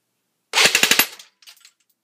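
A G&G UMP .45 airsoft gun fires a short full-auto burst of about six rapid, sharp, close cracks, followed by a brief quieter rattle.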